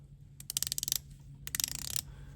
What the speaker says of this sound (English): Let's check bezel action on both.